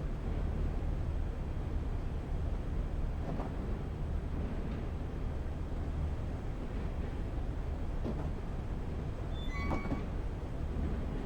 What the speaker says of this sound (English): Driving a train up a pier.